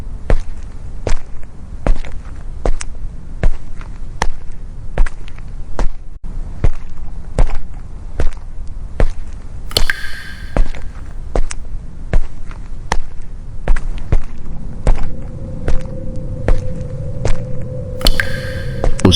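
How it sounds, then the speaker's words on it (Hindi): Boots strike a metal floor inside a deserted factory plant in a steady walking rhythm, each step a sharp echoing thud, with a couple of brief metallic squeals and a low hum creeping in toward the end. "उसके बूट मेटल के फर्श पर गूंजते हैं।"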